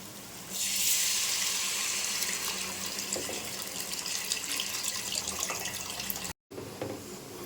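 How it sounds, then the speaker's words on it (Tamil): Soaked and dissolved tamarind water poured into a simmering katla fish curry, a steady close splashing pour of liquid that runs evenly for several seconds before a brief cut near the end. "புளி ஊற்றியாச்சு."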